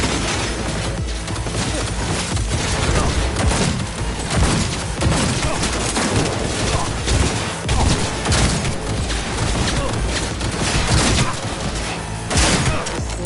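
A turret unleashes dense, sustained gunfire in the game Cyberpunk 2077, loud and continuous blasts and impacts layered into a chaotic firefight throughout.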